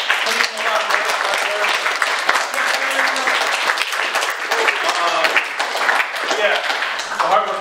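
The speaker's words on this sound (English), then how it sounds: "So let's give these guys a big round of applause." An audience at a student video game development club's general meeting gives a sustained round of applause, dense steady clapping lasting throughout with some cheering voices mixed in.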